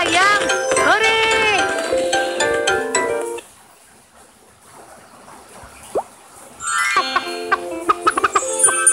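Cartoon hen clucks in a children's farm game for kids, with bright jingly game music before and after a quiet gap and a single short squawk in the middle.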